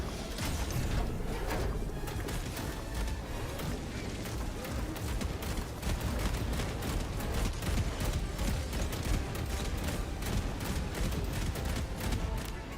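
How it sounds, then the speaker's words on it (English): An Emancipator mech firing at a dragon in a video game: a long, unbroken barrage of rapid heavy shots with mechanical clatter, loud and sustained under a dense battle din. "Come on, Emancipator. We need to shoot down a dragon."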